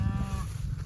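A cow lowing briefly in a farm pasture during a corn harvest, a short low moo heard at moderate distance with no talking.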